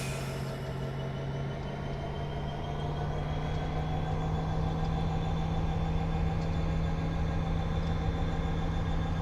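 A long EMD SD75 freight train rolls along in Train Simulator 2017, a steady low diesel drone with constant wheel and rail rumble and a faint high squeal, continuous and unbroken.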